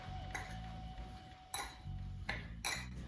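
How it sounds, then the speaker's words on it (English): Spoon stirring three combined strawberry shortcake ingredients in a bowl, giving a few scattered clinks and scrapes against the bowl over a quiet background. "I'm just gonna stir it up a little bit"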